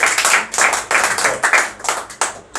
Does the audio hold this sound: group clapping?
yes